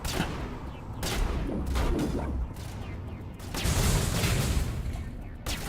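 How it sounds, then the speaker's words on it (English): Gunfire in the video game Mass Effect, a dense run of repeated shots in two louder bursts with a clattering, echoing spread, continuous across the stretch and heard alone without talk. "Oh, they're shooting at that guy."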